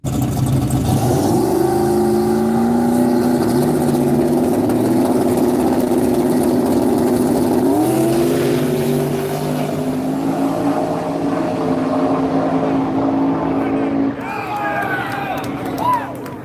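A drag race car at a no-prep racing event roars with loud, sustained engine noise and rising revs, under steady talking throughout.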